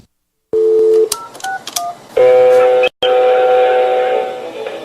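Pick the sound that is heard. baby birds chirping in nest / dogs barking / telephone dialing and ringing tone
telephone dialing and ringing tone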